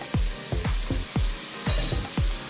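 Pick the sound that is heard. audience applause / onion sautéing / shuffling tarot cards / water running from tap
onion sautéing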